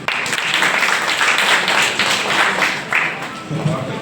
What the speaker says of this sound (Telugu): ఒక క్లాప్స్ ఇస్తే బాగుంటుంది